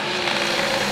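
A single-carburetor, naturally aspirated drag racing car roars loud and close at a drag strip, a dense, sustained engine blare filling the brief moment.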